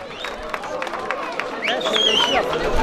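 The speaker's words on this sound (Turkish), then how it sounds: "Düşün sanat kolektifini alkışlarla uğurluyoruz" An outdoor festival audience at a nature and culture festival in Mazgirt applauds to send off an art collective, scattered claps and crowd murmur rising slightly, mixed with nearby chatter.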